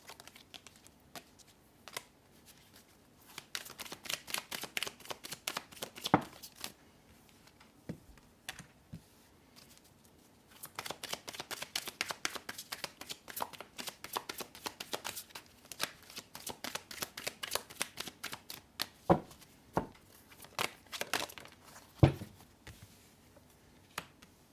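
Tarot cards are shuffled and handled close up in bursts of rapid riffling clicks and soft slaps, separated by quiet pauses and scattered single taps.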